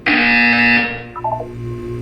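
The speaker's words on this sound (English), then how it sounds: "You will hear a buzzer." A harsh electronic buzzer from the video game Portal 2 sounds loudly for under a second, then gives way to a softer game tone sequence over a steady low hum.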